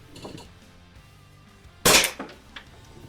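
An air gun fires a single sharp shot during a chronograph velocity test, a loud close crack with a short ringing tail, set against quiet room noise and light handling sounds.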